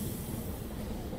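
A local train on the Howrah–Masagram chord line pulls into Bally halt, heard as a dense, steady rumble of wheels and carriage noise from on board, with no voices.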